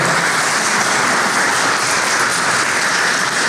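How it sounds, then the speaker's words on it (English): An audience at a city State of the City address claps steadily, in a loud, continuous, even wash of applause with no voices over it. "So let's give them a round of applause"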